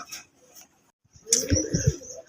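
A pair of pigeons for sale give low, throaty coos close by, a few soft calls first, then a brief pause and a fuller burst of cooing with higher chirps at the end.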